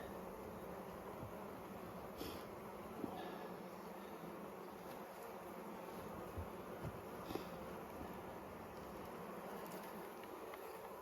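A steady, fairly faint hum of many bees rises from an open brood box being inspected in spring, continuous and unbroken with a few soft knocks, and no voices.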